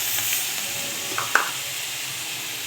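Eggplant, spring onion and chopped tomato frying in oil in a pan give a steady soft sizzle with a couple of faint spoon taps, no voices.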